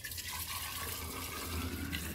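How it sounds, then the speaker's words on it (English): Sweet tea pouring through a wide-mouth funnel into a jar over a sink, a continuous close splashing trickle for about two seconds. "I like to use this little gadget, a wide mouth funnel whenever I'm pouring anything into a jar."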